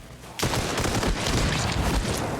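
Rapid volley of gunfire and explosive bursts in Arma Reforger, loud and dense, cracking and booming continuously after a brief quiet start.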